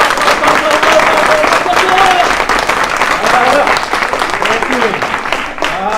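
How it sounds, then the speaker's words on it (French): An audience at a French motivational success seminar applauds itself, dense and sustained clapping that fills the room loudly and evenly, tapering slightly at the end. "je vais vous demander tout simplement de vous applaudir"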